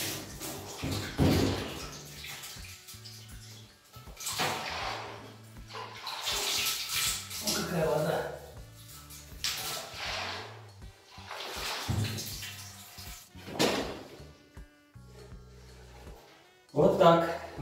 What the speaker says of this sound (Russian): И теперь я должен эту воду слить полностью. Это я буду делать в ванну.